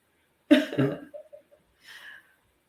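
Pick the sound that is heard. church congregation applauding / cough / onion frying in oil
cough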